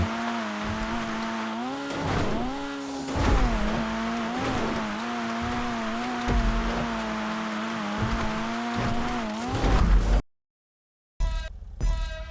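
Dinka Jester Classic car in a GTA video game, its engine droning loudly and rising and falling as it accelerates and shifts, with tire noise, then cutting out briefly before resuming.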